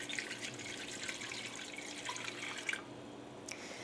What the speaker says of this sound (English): So I'm just gonna pour the water right in.